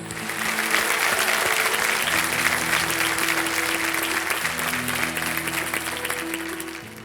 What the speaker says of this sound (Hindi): तालियों के साथ इनका अभिनंदन करते हैं।